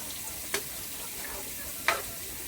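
A liver roast curry boils in a pot, giving a soft, steady bubbling sizzle with two sharp utensil clinks against the pot, quiet and close, without talking.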